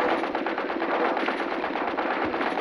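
Mounted machine gun fire in the zombie shooter Into the Dead 2, a dense, continuous rapid burst of loud automatic shots running unbroken throughout.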